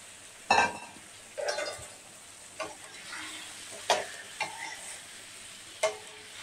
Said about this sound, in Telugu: ఎండు రొయ్యలు వేసి బాగా కలుపుకున్న తర్వాత ఇప్పుడు నేను బెండకాయలు అయితే వేసేసుకుంటున్నా